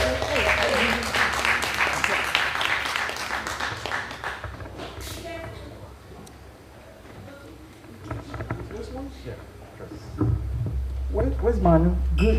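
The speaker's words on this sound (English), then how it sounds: "I'm asking you to applaud gladly" An audience applauding for the mayor at a World AIDS Day event, loud clapping at first that fades into a murmur of voices and talk, with noise swelling again near the end.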